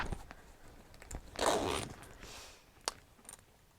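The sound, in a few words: dual zippers opening quilted front pocket of a handbag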